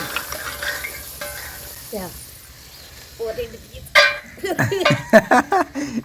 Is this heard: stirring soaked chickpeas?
yes